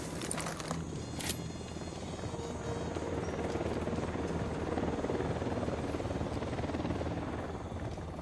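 Helicopter in the military shooter video game Ghost Recon Wildlands, a close, loud, continuous rotor thrum and engine drone holding steady throughout, with a couple of sharp clicks near the start.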